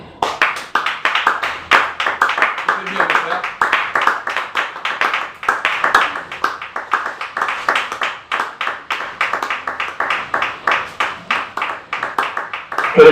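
A church congregation at a prayer-mountain gathering claps in a steady, fast rhythm, the sharp hand claps close and continuous for about thirteen seconds with no break.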